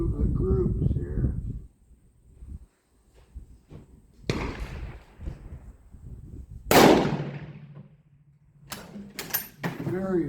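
A Mauser model 1891 Peruvian rifle chambered in 7.65x53 fires two loud, sharp shots several seconds apart outdoors, each with a short decaying tail, while someone talks before and between them.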